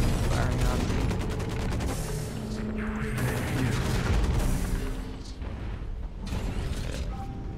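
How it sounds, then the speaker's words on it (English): Gunfire in the mech combat video game Hawken, rapid bursts of shots and mechanical clanks, loud and continuous with several sharp impacts. "I already got some firing on me"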